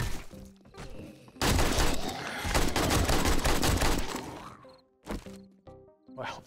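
Gunfire in 7 Days to Die while shooting enemies, a dense burst of rapid shots lasting several seconds, followed by a few separate heavy impacts and shots, loud and close.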